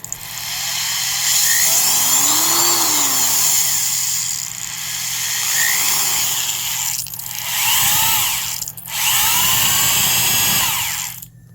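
A 1980s Black & Decker Heavy Duty 3/8 inch carpenter's drill with straight-cut gears runs steadily and loudly up close, a whining gearbox tone that dips and surges in speed, alone with no talk.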